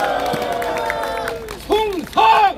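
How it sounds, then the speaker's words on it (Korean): A crowd at an outdoor political rally in front of Jeonju Station erupts in short bursts of shouted cheers and clapping, rising sharply twice near the end. "여러분 인사할 때 환호와 박수 부탁드립니다"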